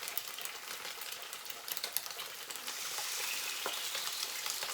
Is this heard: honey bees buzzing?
no